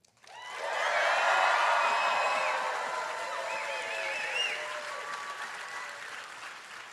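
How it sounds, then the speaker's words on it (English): An audience at a university white coat ceremony breaks into sustained applause with scattered whoops and shouts, swelling quickly and then tapering slowly as it continues. "give a big clap, shout"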